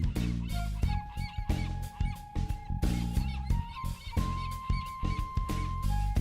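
Honking calls from a flock of geese-like birds cry out in a dense, overlapping chorus, loud and near, with repeated rising and falling calls.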